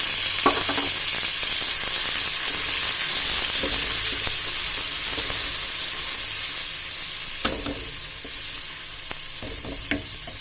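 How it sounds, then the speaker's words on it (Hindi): Ginger garlic paste fries with browned onions in a pan, a loud steady sizzle and hiss with occasional stirring scrapes and clinks up close, and no voices. "प्याज ब्राउन हो गए फ्रेंड्स, अदरक लहसुन का पेस्ट भी ब्राउन हो गया है।"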